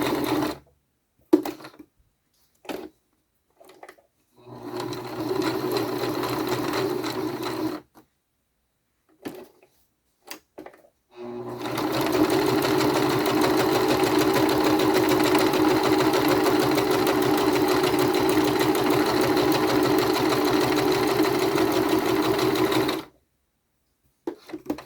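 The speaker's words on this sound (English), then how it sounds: "an average sewing machine, it's hard to go through 2 pieces of batting and fabric" A sewing machine stitches through two layers of quilt batting and cotton fabric, running in short stop-start bursts and then one long steady stretch of close, even mechanical humming.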